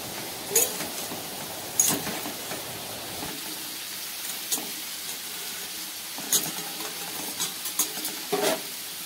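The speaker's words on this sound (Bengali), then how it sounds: "আলুগুলো আমার দেখো এখানে মোটামুটি ভাজা হয়ে এসছে।" Potatoes and taro frying in oil in a pan give a soft, steady sizzle with a few sharp clicks of a utensil stirring them against the pan, with no talking.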